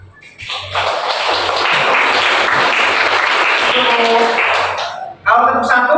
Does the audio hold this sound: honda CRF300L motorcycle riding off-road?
no